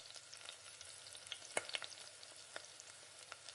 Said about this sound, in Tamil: பச்சை மிளகா சேர்த்துட்ட லைட்டாக இஞ்சி 4 பூண்டு இது கூட சேர்த்து எண்ணெயிலே நல்லா புரட்டி விடுங்க